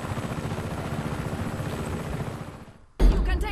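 Helicopter in the Xbox One game Just Cause 3, a continuous chopping rotor drone that fades briefly before cutting back in loudly, with no talking.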